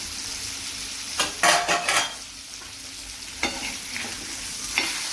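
Prawns fry in a pan with a soft, steady sizzle, broken by a few sharp clatters and scrapes as the pieces are flipped, then a couple of lighter taps later on.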